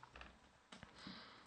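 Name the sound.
typing an IP address on a computer keyboard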